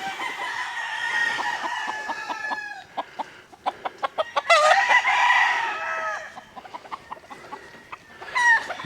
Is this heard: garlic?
no